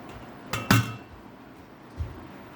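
Hot cooked rice being served, with two sharp close clinks of dishes in quick succession and a softer knock a moment later, in an otherwise quiet kitchen.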